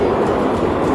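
Steady rumbling roar of a subway car riding along the tracks, a loud continuous low-mid drone with no talk.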